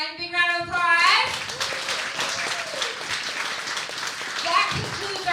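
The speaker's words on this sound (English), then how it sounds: "Big round of applause." A show audience breaks into a round of applause, steady mid-level clapping that fills the space after a voice trails off, with faint voices mixed in.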